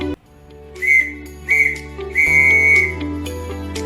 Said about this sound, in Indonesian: Adapun bunyi huruf U